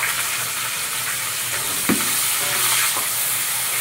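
Onions fry in hot oil with chopped garlic for a bottle gourd greens bhaja, a dense, even hiss and sizzle with a single stirring knock partway through.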